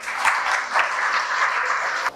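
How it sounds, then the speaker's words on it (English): A short burst of audience clapping at a panel event on Namibia's energy transition, fairly close and even, cutting off abruptly near the end. "Round of applause for him."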